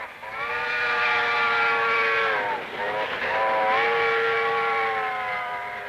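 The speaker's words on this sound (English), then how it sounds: "Do you hear how that train whistle that you just heard and saw, do you hear how it dropped in pitch?" A loud multi-tone train whistle sounds nearby, holding steady, then briefly dipping and dropping in pitch as it passes, a Doppler effect, before sounding again.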